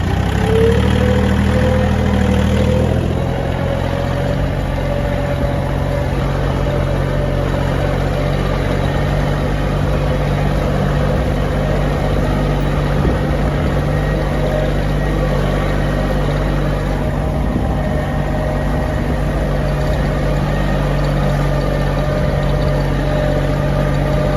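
A Japanese mini tractor ploughing a stubble field of black soil, its engine droning loud and close in a steady unbroken rumble, with a brief shift in pitch near the start.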